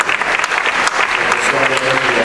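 Loud, close audience applause for eight documentary film directors at a film festival screening, dense continuous clapping throughout the short burst.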